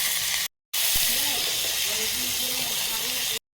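Vegetables for khichuri sizzle in a hot pan with a steady, close hiss, cut off briefly by a short silence, with a faint voice underneath.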